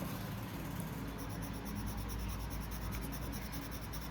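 Soft charcoal pencil, a woodless type, scratching steadily across paper in a close, continuous dry rasp, with no voices over it.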